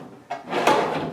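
A drawer on a Kennedy 3611 machinist tool box, mounted on a roller cabinet, slides along its metal runners with a smooth rolling rumble, close up and moderately quiet, lasting about a second.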